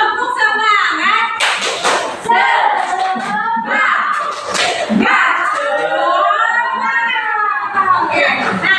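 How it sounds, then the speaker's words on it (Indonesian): Children in a classroom perform a rhythmic spirit clap, sharp bursts of hand claps punctuating loud chanting voices in unison, close and lively throughout. "1, 2, 3, tepuk semangat."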